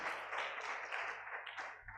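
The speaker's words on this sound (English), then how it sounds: "Please, a round of applause for our resource person." An audience claps and applauds at a financial literacy talk on household budgeting, a dense, steady patter of many hands lasting a couple of seconds and fading slightly at the end, with no talking.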